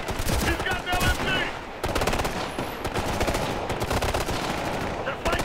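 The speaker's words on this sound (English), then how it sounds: "He's got an LMG!" Light machine gun fire in Ghost Recon Future Soldier, on the Shattered Mountain mission: loud, rapid sustained bursts of automatic fire, close and continuous, with brief pauses and scattered shouting between bursts.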